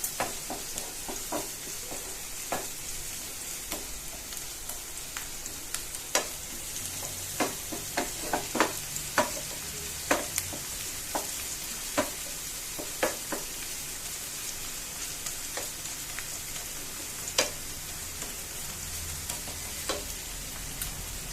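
Onion and ginger paste frying in a pan while being stirred, a steady soft sizzle broken by frequent sharp scrapes and taps of the spoon, close and fairly even throughout.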